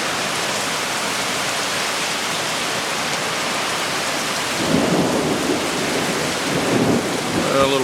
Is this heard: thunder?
yes